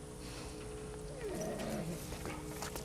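A dog in the video game The Last of Us Part 2 gives a brief, faint growling whimper midway through, set against a low steady background hum.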